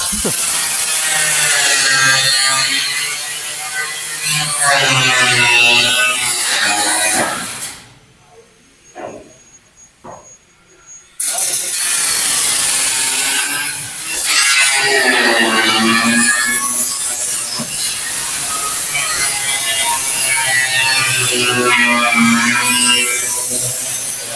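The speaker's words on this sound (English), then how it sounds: "Not sure if you guys can hear that saw." A loud, harsh power saw grinds steadily through wood at a house construction site in the Philippines, briefly cutting out to near quiet with a few knocks before roaring again.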